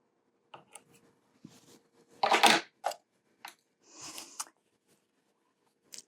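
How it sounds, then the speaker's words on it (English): Scissors snip threads on a freshly attached quilt binding: a few quiet, short cuts and small handling rustles, close by, with silence in between. "Trim my threads"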